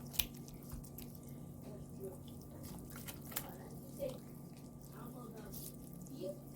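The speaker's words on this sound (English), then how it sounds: "I'm pouring half of it." Liquid trickles and drips into a Southern rice pudding mixture, giving faint, irregular splashes and drops over a quiet background.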